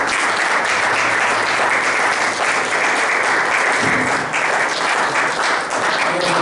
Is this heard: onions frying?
no